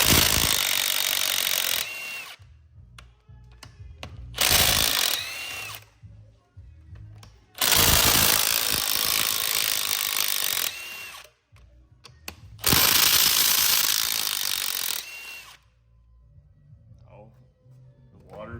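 Snap-on ratchet and power tool work loosening bolts on an LS 6.2 engine during teardown: four long, loud, harsh whirring bursts separated by pauses, close up, with someone talking between them.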